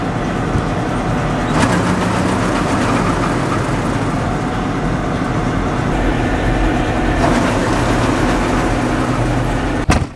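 A combine corn head with a seized gearbox runs steadily: a loud, continuous mechanical rumble and clatter with faint rhythmic knocks, holding an even level before a sudden clunk at the very end.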